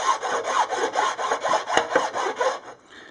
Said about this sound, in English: I use a file for this because it takes the protruding plastic dots down pretty aggressively